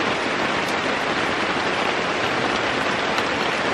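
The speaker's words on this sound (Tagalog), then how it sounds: "Malakas ang ulan." Heavy rain pouring in a mountain setting, a dense constant hiss with no breaks, loud and close.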